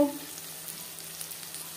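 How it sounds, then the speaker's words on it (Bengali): Chopped onions frying lightly in a pan, a steady soft sizzle with faint crackle running evenly throughout, with no talking. "পেঁয়াজ হালকা করে ভেজে নেব"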